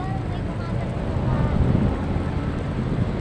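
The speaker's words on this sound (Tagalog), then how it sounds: "Eh! Lakas ng hangin." Strong wind roars and buffets across the microphone in a steady, loud rumble.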